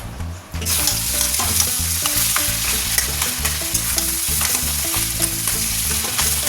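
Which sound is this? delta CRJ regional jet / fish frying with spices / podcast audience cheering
fish frying with spices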